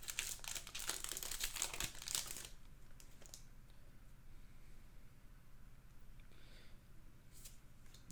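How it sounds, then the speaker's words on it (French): A Zendikar Rising expedition booster pack being torn open, loud crinkling foil wrapper for a couple of seconds, then quieter faint rustles and handling of cards with low background noise. "Donc on va bientôt s'ouvrir le petit booster d'expédition"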